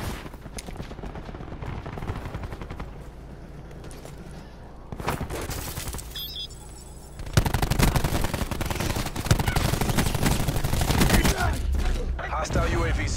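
Heavy gunfire in the war shooter AO War, dense rapid bursts of automatic fire that stay loud almost throughout, swelling louder in the second half amid game noise.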